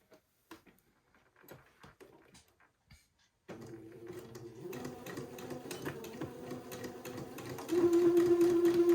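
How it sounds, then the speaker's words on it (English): A domestic sewing machine runs close by to tack the bottom of a garment placket, preceded by a few soft handling clicks, then steady rapid stitching that rises to a louder whirring hum at the end. "using my sewing machine, I'm going to tack the bottom of the placket together"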